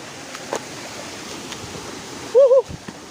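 A river current flows on the way to a waterfall, giving a steady soft rushing wash in the background while a voice briefly exclaims near the end.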